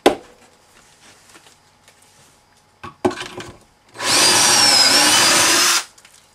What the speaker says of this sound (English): Drill the center hole